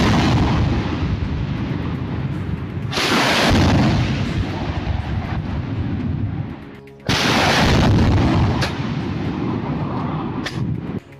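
Rocket attack explosions on a building in the Manara settlement, northern Israel, roll as loud, heavy booms and rumbling blasts. A sustained barrage swells twice, with a sharp renewed burst near the middle, and there is no voice.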